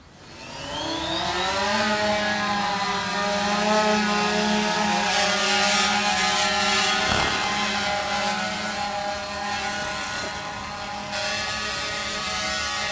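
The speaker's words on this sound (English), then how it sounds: "calibrating the drone before he sends it up in the tree" A drone spins up and hovers close by, its steady whining rotor drone with rising harmonic tones filling the scene continuously, ready to fly up beside a tall tree to measure its height.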